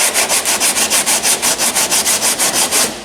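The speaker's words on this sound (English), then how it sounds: "So right now I need each side down to metal so I can see exactly where the dips are." Rhythmic back-and-forth sanding on a 2012 Chevy Impala body panel, taking it down to bare metal with 40 grit paper; steady close strokes, about five per second, loud and alone.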